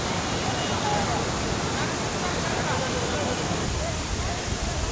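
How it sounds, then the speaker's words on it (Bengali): Suptodhara waterfall in Sitakunda, Chattogram, full of water, roars as a constant dense rush of water, loud and unbroken. "ঝর্ণাগুলো পানিতে একেবারে ভরপুর"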